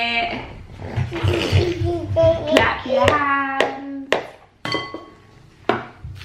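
Hands clap in rhythm with a sung children's song, several sharp claps landing in time between lines while a voice sings and small clinks sound around them.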